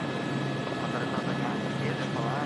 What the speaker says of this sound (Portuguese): O helicóptero vai bem devagar.